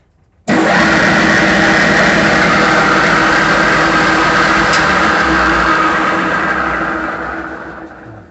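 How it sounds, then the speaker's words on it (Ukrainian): An electric motor starts abruptly and runs with a loud, steady whirring drone for several seconds, then begins to wind down toward the end. "треба тоді встановити двигун і включити реверс, щоб крутило в другу сторону"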